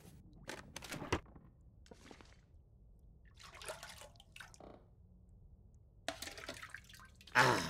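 Water sounds in The Long Dark, drinking toilet water: a few soft splashes and trickles come in scattered bursts over a quiet background, with a brighter, louder slosh near the end.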